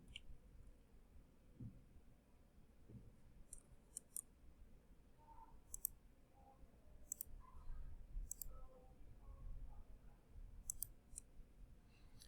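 Sparse, faint computer mouse clicks while drawing a spline in Onshape CAD software, a few light ticks scattered across a quiet background with no talk.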